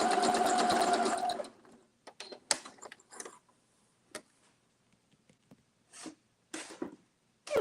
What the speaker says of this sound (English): I am sewing up what are called bonding hearts for the NICU babies.